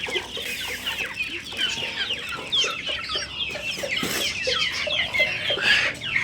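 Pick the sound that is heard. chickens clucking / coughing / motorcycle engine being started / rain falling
chickens clucking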